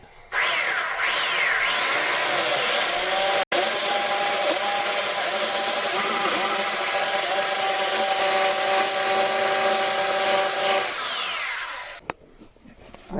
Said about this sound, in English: let's run a drill through there